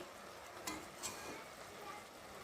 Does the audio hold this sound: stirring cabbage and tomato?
yes